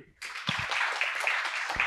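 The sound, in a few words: audience applause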